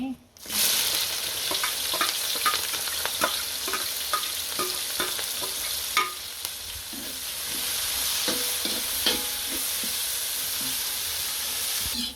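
Onion and green chili fry in a pan with a steady loud sizzle and hiss, punctuated by repeated close scraping strokes of a spatula throughout.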